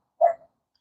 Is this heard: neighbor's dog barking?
yes